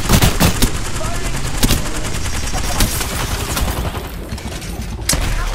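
Sheila smart bullet gunfire in the video game Apex Legends, rapid sustained automatic bursts with sharp cracks and an uneven rhythm, loud and fairly close, under busy game noise and voices.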